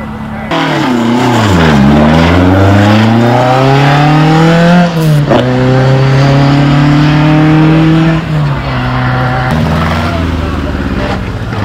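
Supercars launching and accelerating hard at the Heveningham Concours of Elegance 2024 car show: a loud, close engine roar climbs in pitch through several gear changes, with crowd voices in the background.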